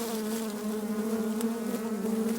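Honeybees at a hive in late winter produce a continuous, close, droning hum that stays steady and fairly loud throughout.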